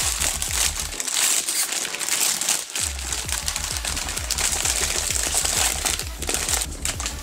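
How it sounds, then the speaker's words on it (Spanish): Adrenalyn XL Liga Santander 2017-2018 foil sticker card packets torn and crinkled open by hand, a dense continuous crackling and rustling up close, nearly unbroken with a brief lull partway through. "Que es abrir los sobres."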